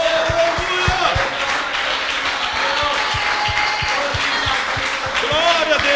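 A church congregation claps steadily in applause while a voice keeps talking over the clapping throughout.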